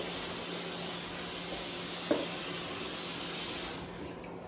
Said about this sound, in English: Rinse the bedpan.